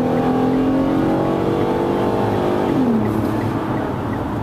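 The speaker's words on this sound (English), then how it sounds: "there's still a substantial amount of road noise, and at highway speeds," Cabin noise from a 2015 Mitsubishi Outlander GT at highway speed, a steady broadband rush of road and wind noise with a low engine drone that dips slightly in pitch, continuous and fairly loud with no talking.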